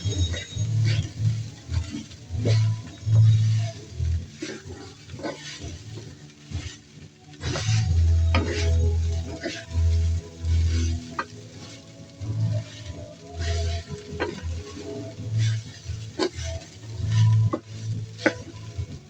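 Garlic-style fried rice, sinangag, is stir-fried in a pan, with continuous sizzling under repeated scraping and tossing strokes of a spatula, some louder knocks against the pan along the way.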